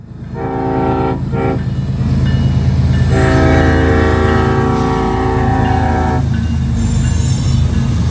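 CSX freight train led by locomotive 1776, painted in digital camo, passing on the Willard Subdivision near Willard Yard in northern Ohio: loud, close and continuous wheel rumble with sustained horn blasts, partly interrupted.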